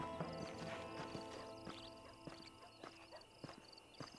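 Faint, steady clip-clop of horse hooves in Red Dead Redemption, a quiet run of soft repeated hoofbeats over low ambient game sound, with no talk.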